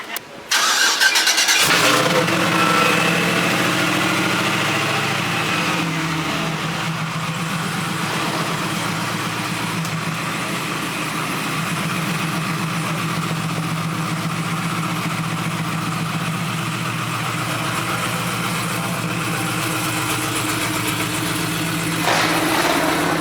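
A Monte Carlo SS with a Whipple-supercharged 376 LSX V8 making over 700 hp cranks and catches loudly, then settles into a steady, rough, close idle that holds for about twenty seconds.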